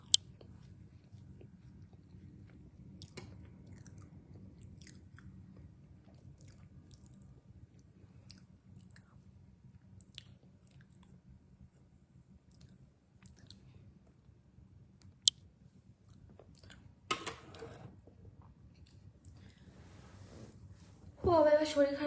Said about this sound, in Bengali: আমি বার্গার খাই চামচ দিয়ে।